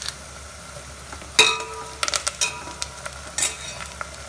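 Fresh curry leaves dropped into hot oil for a spicy masala sambar, giving a brief loud crackle followed by scattered sizzling pops and spoon stirring in the pan, with no talk.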